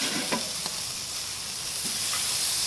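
Pork burgers coated in bourbon BBQ sauce sizzle steadily on a hot cooking surface, a loud continuous hiss with a few soft bumps as the patties are flipped, no voices.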